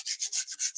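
A nail file rasps back and forth across the edge of double-sided cardstock, a quick, near, steady rhythm of about six dry, scratchy strokes with brief gaps between them, heard alone.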